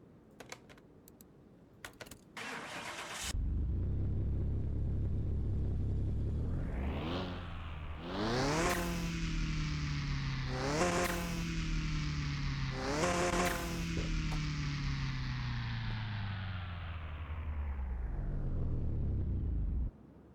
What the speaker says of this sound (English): let's hear this car, and yeah, it's probably gonna not be impressive or deep sounding because hey, it's an inline 4